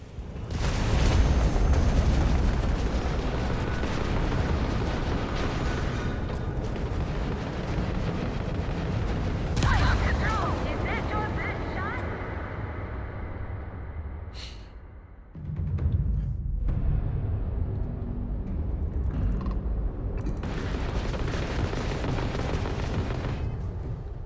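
Gunfire and explosions in the video game Starfield: dense, loud, continuous booming and blasts with rumbling low end, a brief dip near the middle before the barrage resumes.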